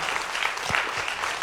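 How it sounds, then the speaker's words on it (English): Steady applause from a small audience at a cello interpretation class fills the moment, a dense even patter of clapping throughout. "A little applause."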